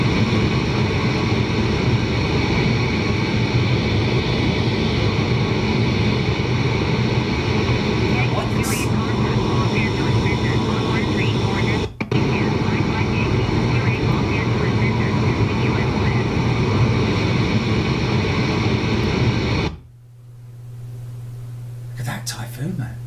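Jet engine roar from F-15E and Typhoon aircraft in a flight simulator game, a loud steady drone that runs unbroken for most of the clip before cutting abruptly to a low hum near the end.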